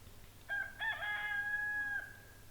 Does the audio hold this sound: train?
no